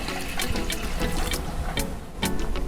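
Water splashes into a pressure cooker holding lentils and green chilies for dal fry, a close, continuous pouring with bubbly splashes that dips briefly near the end before resuming, with no talk.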